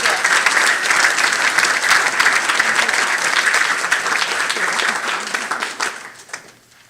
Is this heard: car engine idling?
no